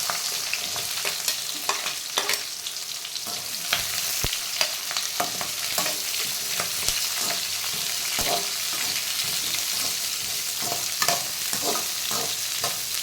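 Onions sautéing in a pan with mustard seeds and chana dal, a continuous close sizzle of frying broken by frequent clicks and scrapes of a spatula stirring, with no talk.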